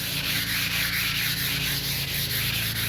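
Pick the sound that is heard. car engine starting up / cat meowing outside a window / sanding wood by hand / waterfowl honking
sanding wood by hand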